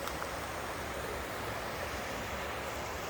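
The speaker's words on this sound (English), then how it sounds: "Creek running through there." A creek running through a canyon along the Catwalk trail in New Mexico, heard as a steady, broad rushing wash of water, fairly even and continuous throughout, with no voices.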